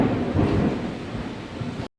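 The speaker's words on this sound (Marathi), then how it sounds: "तुम्हाला बाहेर आवाज येत असेल कारण बाहेर पाऊस पडतोय" A thunderstorm outside a kitchen, with a steady roar of rain and a low rumble of thunder filling the brief stretch before it cuts off abruptly.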